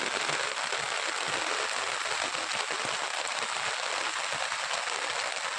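Rainwater rushes through a large village stream swollen by a day of heavy rain, near an overflowing small bridge, making a steady, dense, loud roar that never lets up.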